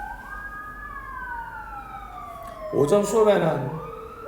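An ambulance siren passes outside, its rising and falling wail sweeping across the whole stretch. Near the end it is partly masked by a brief burst of louder speech.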